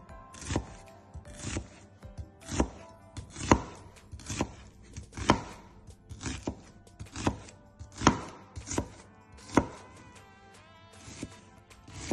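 A knife chops an onion into small cubes, landing evenly spaced, sharp thuds on a cutting board, close and steady with nothing else heard.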